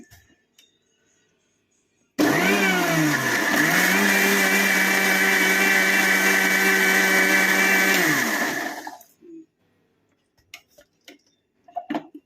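A mixer grinder starts abruptly and whirs loudly at a steady pitch for about six seconds while blending tomato chutney, then winds down, followed by a few faint clicks.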